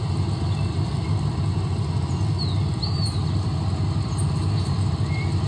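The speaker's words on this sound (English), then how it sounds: "I like the way the engine sound, the rumble." A car engine rumbles at a low, steady idle through desktop computer speakers, with faint bird chirps scattered above it, continuous and even, no talking.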